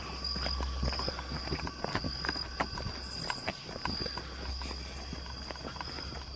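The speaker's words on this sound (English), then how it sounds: "Dude, I hear somebody walking, and it's not our freaking footsteps." Irregular footsteps outside at night, soft scattered thuds and crunches under a steady hum and insect-like whine, moderately close.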